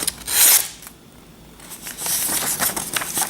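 Yaxell Gou Damascus chef knife pushed through paper, giving crisp slicing and crinkling scrapes in a few short bursts with a quieter pause between, close up and without speech.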